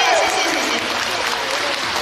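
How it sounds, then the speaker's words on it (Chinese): Audience applause at the curtain-call encore of a Chinese opera performance in a theatre, a steady wash of clapping from a large crowd, loud and continuous, with a voice briefly heard at the start. "我们用热烈的掌声，我们代表我们所有的观众和演职员，感谢我们的舞美"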